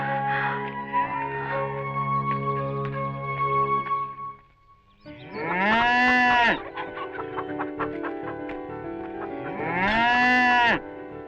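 A cow lowing loudly and repeatedly, calling out while waiting to be milked, with long drawn moos close by; chickens cluck faintly in the farmyard background.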